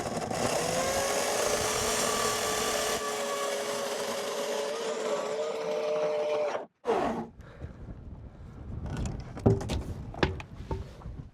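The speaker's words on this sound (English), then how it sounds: "I love this chainsaw. This is gonna take no time. So quiet, so nice" A chainsaw cutting roof rafters at an off-grid build site in Arizona runs loud and steady for about six seconds, stops abruptly, then gives way to quieter clattering and knocks.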